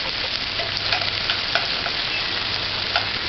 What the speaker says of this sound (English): Add the onions. Allow that to saute slowly